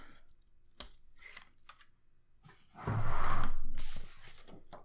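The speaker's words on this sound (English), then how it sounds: "I'm going to take my tape off" Tape being peeled off paper while making a scrapbook mini album: soft handling clicks, then a single loud, close ripping pull lasting about a second, and no speech.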